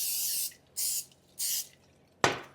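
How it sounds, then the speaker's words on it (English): Pam cooking spray hisses into a cast iron skillet in three sharp bursts of about half a second each, close and clear, followed by a brief clunk as the can or pan is set down. "I'm going to spray it well with some Pam."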